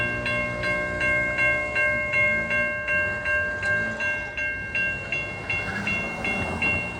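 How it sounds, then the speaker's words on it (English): A model train rumbles past with a steady, rhythmic clatter and a sustained high ringing tone, loud and continuous throughout. "Hey, we got another train coming."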